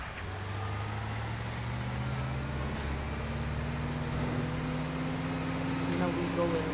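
A car engine hums steadily at a low idle in the game Teardown, faint and continuous, with a slight drift in pitch and no speech over it.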